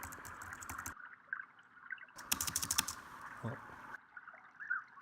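Computer keyboard keys are pressed while someone tries to control Lara Croft Go on a Mac, giving a short cluster of quick, crisp clicks in the middle, plus a few scattered taps, over soft background sound.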